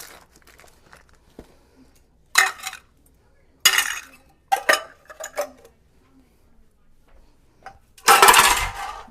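Dishes, pans and utensils clinking and clattering during kitchen cleanup, scattered sharp bursts of clanking separated by quiet gaps, with one heavy clatter near the end.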